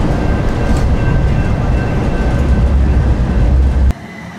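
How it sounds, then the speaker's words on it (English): A train rumbles heavily nearby as it arrives at a station near the US–Mexico border, with a low, continuous roar and faint high whine, then the noise drops sharply near the end. "This should be Ben's train."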